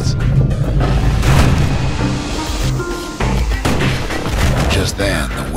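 Gunfire from a security skiff pulled up portside rolls out in loud, dense booms with crashing waves in the game Bastion. The heavy, continuous barrage fills the whole stretch with no clear gaps.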